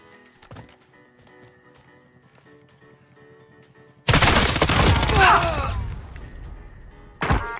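Gunfire at the Rifleman Firearms Target Shooting Club range, likely a rimfire rifle such as a CZ 457: a quiet stretch of faint background clicks, then a sudden loud, sustained burst of sharp noise and a final crack near the end.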